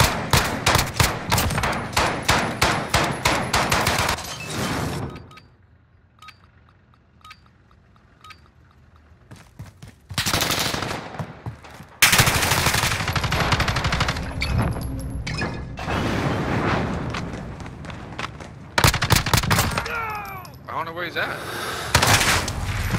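Rapid gunfire bursts and booming shots from the video game Call of Duty: Modern Warfare, loud and dense with a quieter lull midway, then heavy volleys resuming amid game voices.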